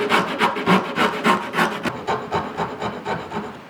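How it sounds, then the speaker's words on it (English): Carving chisel scraping and hollowing the wooden volute on a bass guitar neck, a steady run of rhythmic rasping strokes, close and fairly loud, about ten to twelve strokes with no talking. "We'll come in with a little bit of a carving chisel and hollow out that volute"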